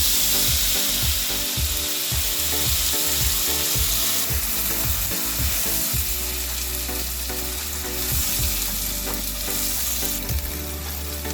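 Onion paste fries in fish-frying oil with whole spices for Bengali doi katla, a continuous close sizzle broken by repeated scraping stirs against the pan.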